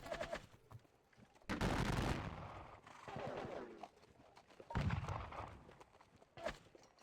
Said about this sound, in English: You will all open fire on them.